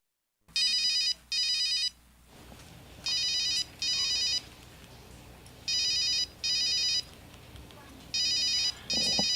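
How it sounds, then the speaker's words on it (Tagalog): Cellphone ringtone ringing in repeated short electronic bursts, fairly loud and close, with low background noise and a brief break near the start. "Ay, anak kong cellphone nag-ring."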